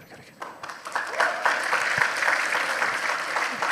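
Audience of university students at Unitomo in Surabaya clapping after a speech, the applause swelling quickly from a few hands into a steady crowd clap.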